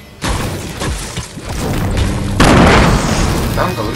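A grenade blast in the battle royale game Fortnite goes off as a loud, close boom, followed by a sustained rumbling roar that swells again midway; excited voices are faintly present in the background.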